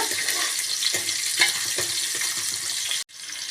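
Small and large onions sautéing for a fish curry, a steady close hiss of oil with soft periodic stirring scrapes, ending in a brief cut and a quieter sizzle, no voice.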